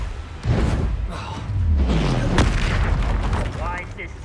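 A Confringo spell blast in the Hogwarts Legacy video game lands as a loud booming burst with rumbling low end, set among other spell effects while a voice calls out spell names over it.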